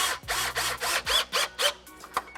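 An electric drill with an 8mm bit drives self-tapping screws into a car fender, giving about eight short, evenly spaced whirring bursts, close and fairly loud.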